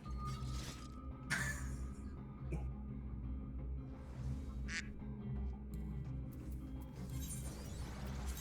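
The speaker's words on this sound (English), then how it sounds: "did I hear a duck or am I going crazy?" A duck quacking quietly in the background, a few brief faint calls scattered over a steady low hum.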